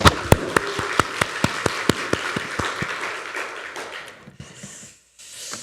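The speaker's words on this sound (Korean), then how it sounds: "박수로 환영하겠습니다" A church congregation claps to welcome new members at a Sunday morning service, sharp regular beats at first, then a looser patter that thins and dies away after about four seconds.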